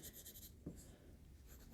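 A thick 5.6mm graphite pencil shades across paper in rhythmic scratchy strokes, quiet and close, with brief pauses between bursts.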